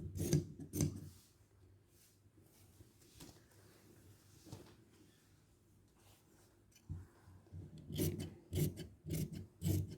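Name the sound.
scissors cutting trouser back-part fabric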